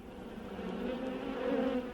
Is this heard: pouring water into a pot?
no